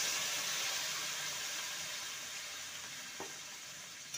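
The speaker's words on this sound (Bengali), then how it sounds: "ভালো করে মশলার সাথে কষিয়ে নেব" Boiled chana dal sautéing with spices in a pan after going in together with its cooking water; a steady, soft sizzle and hiss with a faint stir-like knock near the end, no talk.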